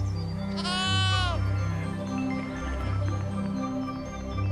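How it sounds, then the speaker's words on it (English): A sheep gives a loud wavering bleat close by early on, over a steady background of low animal and farm noise. "A baby sheep is called a lamb."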